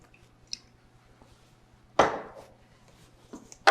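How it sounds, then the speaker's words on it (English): Vegetables are poured onto a pan greased with olive oil or cooking spray, making one sudden burst of clatter and sizzle midway that quickly fades. A few small clicks come before and after it, and no one speaks. "And just pour your vegetables on top."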